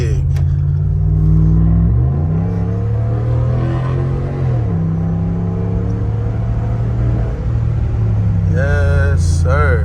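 A Ram 1500 Hemi pickup with a loud exhaust drives through Atlanta at night, its deep engine rumble rising and falling through several revs and gear changes, close and loud, with brief voices near the end.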